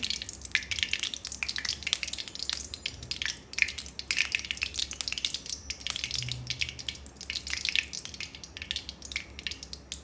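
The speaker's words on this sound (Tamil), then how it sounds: "எண்ணெய் வந்து கொதித்து கொண்டிருக்குது சட்டி ஈரத்தோட எண்ணெய் வழியாக சத்தம் கேட்குது" Hot oil crackles and spits in a pot still wet with water on a village stove while cooking cassava, a dense run of sharp pops and drips over a low steady bubbling.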